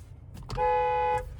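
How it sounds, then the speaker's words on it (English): A single steady horn blast from a 2025 Jeep Gladiator Sport V6, lasting about half a second, loud and close from inside the cab, over a low rumbling background. "There's the horn."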